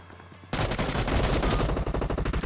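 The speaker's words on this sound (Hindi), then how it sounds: "तो यार सामने से फायरिंग चल रही थी" Gunfire in PUBG on the Erangel map: after a quiet moment, a loud, sustained burst of automatic fire breaks out, then continues as a rapid string of evenly spaced individual shots.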